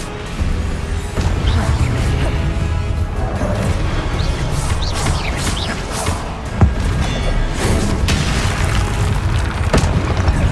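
Repeated heavy booming blasts from the Confringo fire spell in Hogwarts Legacy, loud and dense over a rumbling game score, with sharp crackling bursts recurring across the passage and no talk.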